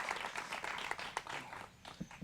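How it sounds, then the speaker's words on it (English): An audience applauds at a university groundbreaking ceremony with dense, continuous clapping at moderate loudness that fades slightly near the end. "We can clap for that."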